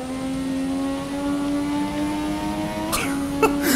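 An F1 2017 race car in a video game at Spa-Francorchamps, its engine droning at a steady high pitch, rising slightly, then the throttle is blipped in sharp, choppy bursts near the end.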